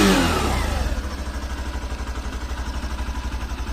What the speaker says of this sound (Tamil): ஸோ இதுதான் என்ஜினோட சவுண்டு, நல்ல ஸ்மூத்தாக இருக்கும்.